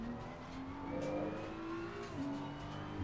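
Race car in Assetto Corsa Competizione, on a US track, pulling hard down a long back straight, its engine note climbing steadily through the gears, with a brief shift dip midway and no talk over it.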